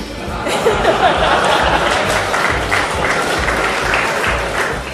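Amateur radio contest crowd (WRTC 2006) applauding after a good luck cheer, dense steady clapping with a little laughter and chatter, loud and close throughout.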